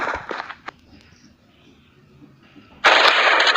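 A sniper rifle fires in the Pixel Gun video game: a sharp, loud shot bursts in near the end after a stretch of quieter game sounds.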